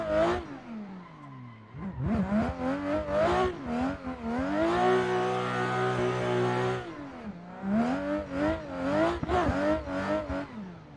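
A Supra race car engine in a sim racing game, revving and shifting through tight hairpins, rising and falling pitch with sustained high-rev stretches, loud and close.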